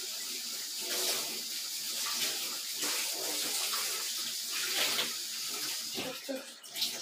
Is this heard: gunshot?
no